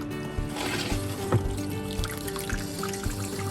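Water fills the bowl of an RV toilet at a campground, flowing as a steady trickle and gurgle close by with no speech.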